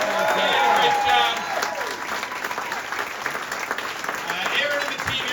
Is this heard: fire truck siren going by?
no